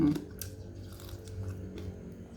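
Close crunchy bites and wet chewing on a soft young Thai eggplant during a home meal, a few bites at the start and then steady chewing with no voices.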